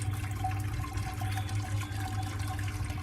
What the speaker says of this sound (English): Right, got the sparge going.